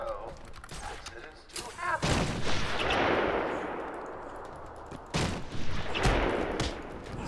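Gunfire erupts from snipers in Batman: Arkham Asylum, sharp loud cracks followed by rolling booms and rumbling, with a voice talking over parts of it.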